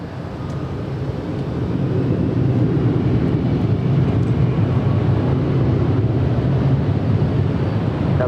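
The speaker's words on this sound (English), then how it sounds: "we do have that Air China 787-9 Dreamliner coming in from Beijing, flight 601" Air China Boeing 787-9 Dreamliner arriving at LAX from Beijing, a steady, loud broadband jet roar with low rumble holding throughout, no talk.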